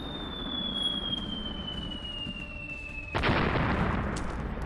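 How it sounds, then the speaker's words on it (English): A laser cannon shot explodes in the video game Otherworldly Air Gunship, fired from an AC-130 gunship: a sustained tone plays, then a sudden broadband burst of crackling blast noise that stays loud to the end. "the explosion for that is sadly underwhelming"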